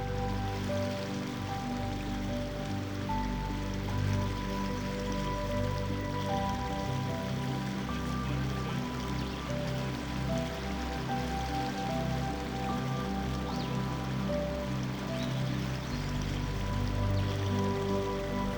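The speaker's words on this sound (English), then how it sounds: "be at one with my dog and the sounds of the river" River water rushes and gurgles continuously, steady and close, with a low rumbling hum underneath and no voices.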